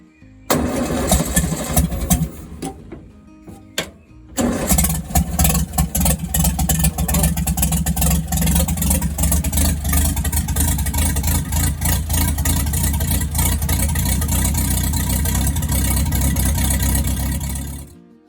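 A Morris LC car engine cranks, catches and settles into a steady, loud run on choke, with a brief stumble before firing fully and running continuously until it cuts off near the end.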